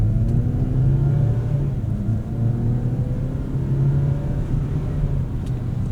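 A 2026 Mazda CX-60 with a naturally aspirated engine and manual-style SkyActiv Drive automatic pulls smoothly and linearly, a steady loud engine drone rising gradually in pitch inside the cabin, with no talking.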